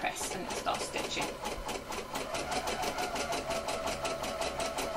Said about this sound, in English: Put your foot down, needle down, and then press and start stitching.